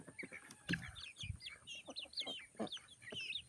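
A chicken in a backyard flock clucks and calls in short, rhythmic bursts, fairly faint and close, with brief higher chirps mixed in and no speech.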